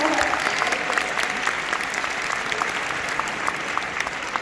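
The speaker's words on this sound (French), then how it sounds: "Je vous demande juste une dernière fois de les applaudir fort." A large audience at the Paris Grand Rex premiere of Encanto applauds steadily, a dense, lively wash of many hands clapping with a crowd murmur beneath.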